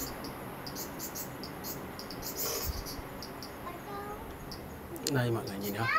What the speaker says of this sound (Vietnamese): Nhưng mà chỗ này mình đang nhìn thấy có một con ve sầu.